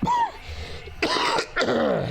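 Two harsh, close coughs in quick succession, each a rough burst about half a second long, following a brief quiet tone.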